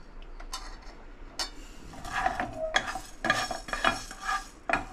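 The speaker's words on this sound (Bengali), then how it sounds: "1 টিস্পুন আমি মৌরি নিয়েছি, এই দুটো শুকনো খোলায় একটু আমি সেঁকে নেব" Fennel seeds and other spices dry-roasting in a dry pan over low heat, giving light crackles and scattered ticks and scrapes as they are stirred, quiet at first and then busier.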